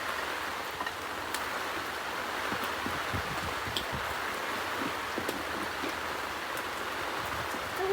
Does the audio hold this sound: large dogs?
no